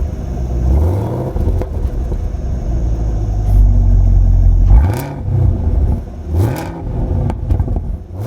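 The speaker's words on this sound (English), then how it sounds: "let's try out some of those great engine sounds" A 2021 Chevrolet Camaro ZL1 V8 in track mode revs hard several times, a sustained loud roar building mid-clip before sharp separate blips rise and fall near the end, close and loud with no talk.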